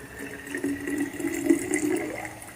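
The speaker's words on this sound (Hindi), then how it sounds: "तो चलिए सबसे पहले डालते हैं, देखते हैं स्टीमर में कितना पानी जाता है।" Water poured from a cup into the reservoir of a Morphy Richards New Europa 800-watt espresso and cappuccino machine, a steady close trickle lasting a couple of seconds with no talking.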